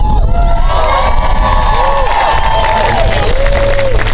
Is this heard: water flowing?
no